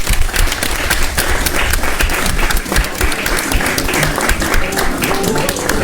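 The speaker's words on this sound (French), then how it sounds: "Beaucoup d'applaudissements pour Amina Cissé." Loud, sustained applause for Amina Cissé from a live television studio audience, dense clapping running steadily throughout without a break.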